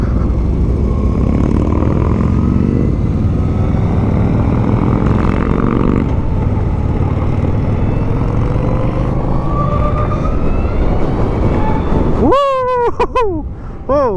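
A 2020 Harley-Davidson LiveWire electric motorcycle accelerates hard at full throttle, heard as a steady loud rush of motor whine and wind buffeting, ending in a sharp rising electric whine.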